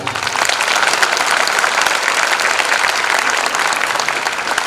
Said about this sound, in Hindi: इन सभी बच्चों के लिए बधाइयों के रूप में बहुत बड़ी तालियां एक बार सब लोग बजाएं